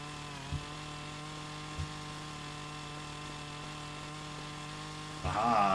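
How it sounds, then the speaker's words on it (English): Chainsaw in the video game Farming Simulator, a steady droning buzz while felling trees, with a couple of brief knocks and a louder rough cutting burst at the end. "Attack of the killer chainsaw."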